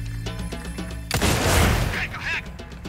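Gunfire at the shooting gallery in Resident Evil 4 Remake, a burst of loud booming shots that follows a stretch of game music, with a couple of bright metallic pings afterward.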